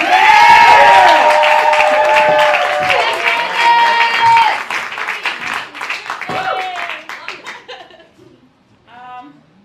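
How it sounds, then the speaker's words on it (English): An audience at an improv comedy festival applauds and cheers, with whoops and loud voices at first, then thins into scattered claps and chatter before fading out. "y'all give another round of applause for Storm."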